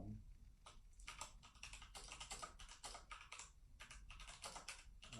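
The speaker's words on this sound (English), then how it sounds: "now it's a Bluetooth keyboard. I'm in English, and you can see me typing." Typing on a Bluetooth mechanical keyboard: a steady, close run of clicky keystrokes with brief pauses between bursts, heard alone and fairly quiet.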